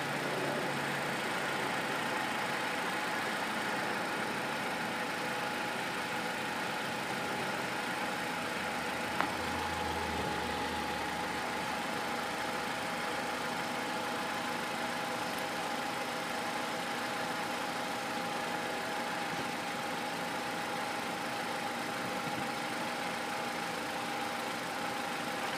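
A 2006 Chevy Cobalt with the 2.2 engine idles steadily, a constant low engine hum with a faint whine on top, with no talking.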